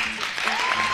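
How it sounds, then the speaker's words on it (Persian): Brief clapping from a studio audience during a comedy TV show segment, a short patter of applause with faint background murmur. "با دستت بازی نکن، یه تشویق کن"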